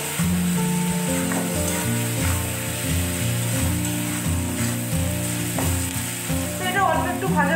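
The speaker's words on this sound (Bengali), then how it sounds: "এটা অল্প একটু ভাজা হয়েছে, আমি আর একটু ভেজে নেবো" Onions fry in oil in a pan, giving a steady close sizzle with occasional stirring clicks beneath loud rhythmic background music.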